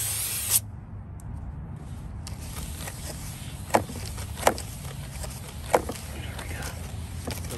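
Brake cleaner sprayed onto a Honda Accord front brake rotor gives a steady, continuous hiss that runs throughout, with a few sharp knocks and clicks over it.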